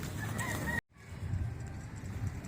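Backyard chickens being let out, clucking and calling in a busy mix close by, broken by a brief cut before the flock noise returns with scuffling.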